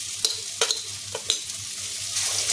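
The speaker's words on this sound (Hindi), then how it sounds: "अब इसमें डाल देंगे अदरक लहसुन।" Ginger and garlic tossed into onions frying in a pan for dum aloo, a steady sizzle broken by a few sharp stirring scrapes, close and alone.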